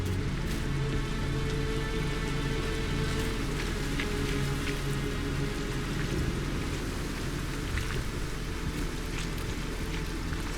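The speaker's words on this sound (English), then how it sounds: "Rain's got to stop someday." Steady, dense rain falls in The Caribou Trail game, a continuous hiss of drops on surfaces with occasional louder patters and a low rumble beneath, with no voices.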